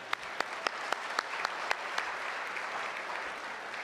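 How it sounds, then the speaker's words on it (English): An audience claps at a city's State of the City address in Pleasanton, California, a steady crowd applause with a few sharp, close individual claps standing out in the first two seconds before it evens out. "We deserve a clap for that."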